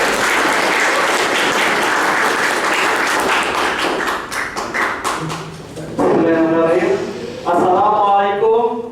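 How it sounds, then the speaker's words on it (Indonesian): An audience at a workshop claps steadily for a presenting team, a dense patter of applause that thins out, followed by a person speaking. "Sekali lagi mohon tepuk tangannya untuk tim Jas"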